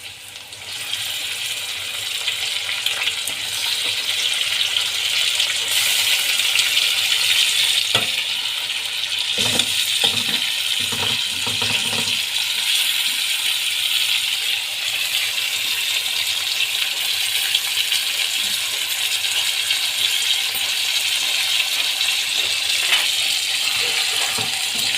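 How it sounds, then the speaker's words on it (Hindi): Washed chicken pieces dropped into a hot karahi of frying onion, ginger and garlic, giving a constant loud sizzle with a few clattering stirs and knocks partway through. "तो अब इसके अंदर जो है चिकन अब ऐड करेंगे जो धोया था हमने"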